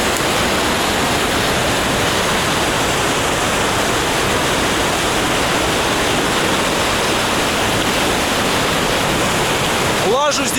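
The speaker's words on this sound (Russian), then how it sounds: "Вон он, водопад." A waterfall roars continuously, a dense, loud rush of falling water filling the whole stretch, close and steady.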